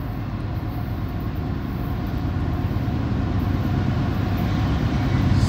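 A CSX northbound mixed manifest freight train rolls past on a cold day with a steady low rumble of wheels and cars that grows slightly louder toward the end, with no voices.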